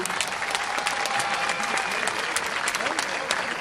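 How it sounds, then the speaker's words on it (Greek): Warm audience applause for a teenage and youth traditional Greek dance group, a dense, even patter of many hands, moderately distant and sustained throughout. "Ένα θερμό χειροκρότημα"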